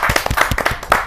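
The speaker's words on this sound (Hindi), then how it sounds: "मैं जहाँ जोरदार तालियों के साथ आमंत्रित करता हूँ रागेश जी।" Brief clapping from an audience at a Hindi poetry gathering, a handful of close, loud, uneven hand claps welcoming a senior lyricist to the stage.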